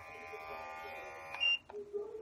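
A steady rotary electric shaver motor buzzes alone for over a second, then cuts off with a short click and a brief higher tone.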